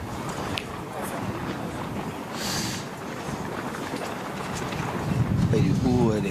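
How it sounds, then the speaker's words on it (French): Gusty wind buffets the microphone at an outdoor pétanque match in Saint-Tropez, a rough continuous rumble swelling louder toward the end, with a voice speaking briefly. "Alors que le vent se lève un peu"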